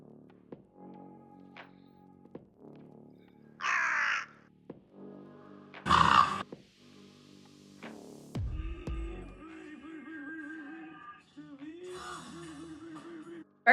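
A crow caws, with loud harsh calls standing out around the middle among quieter movie background sounds and music.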